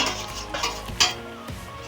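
Fried lentil dhoka pieces are stirred into a pan of boiled potatoes for a vegetarian curry. A spoon scrapes and clinks against the pan in a few strokes over a low sizzle, with no speech.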